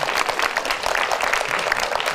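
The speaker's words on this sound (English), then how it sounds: "Let's give our cabinet a big round of applause if we can." A town hall crowd claps for the mayor's cabinet, a dense, loud wash of many hands that stays steady and close throughout the short burst.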